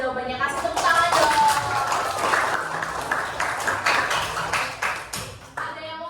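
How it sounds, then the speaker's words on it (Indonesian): A class of eleventh-grade students claps for a correct answer during an Indonesian-language lesson, a few seconds of scattered hand claps that taper off, with a teacher's voice before and after. "Kasih tepuk tangan dong"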